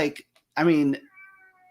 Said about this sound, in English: my cat wants to join this conversation